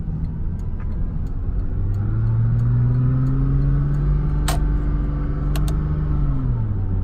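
Porsche Cayman engine held near 3,000 rpm in first gear in manual mode, a loud steady mid-pitched hum with the pitch rising slightly and then easing back, close and continuous with no talk.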